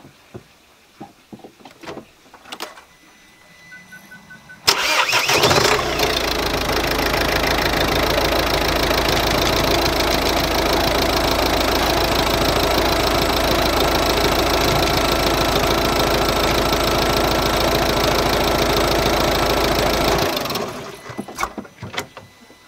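A Ford Focus engine cranks and catches after a battery change, then idles loudly and steadily for about fifteen seconds before cutting off, with quieter handling noises before and after.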